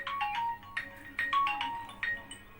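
A mobile phone ringtone plays in a house, a bright repeating electronic melody in short bursts over about two and a half seconds, fairly close and alone with no talk.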